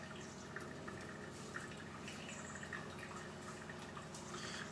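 A Mr. Coffee 12 cup coffee maker brewing, with soft gurgling and dripping water at low volume, steady bubbling and small irregular drips running throughout.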